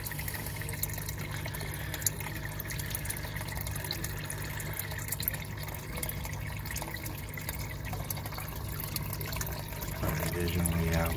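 Water flows and trickles steadily for several seconds, a continuous close rushing that swells a little louder near the end.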